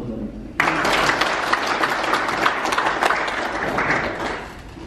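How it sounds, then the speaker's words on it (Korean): An audience at a Taego Buddhist order year-end closing ceremony bursts into applause, a sudden loud onset of many people clapping that holds steady for several seconds before tapering slightly. "박수 한번 주세요"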